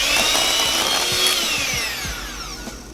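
An electric mixer creams butter and sugar for sprinkle sugar cookie dough, a loud, steady, close whir that slows and drops toward the end.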